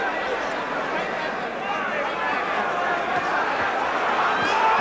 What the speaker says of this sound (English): the bell was almost drowned by the crowd noise at the end of round nine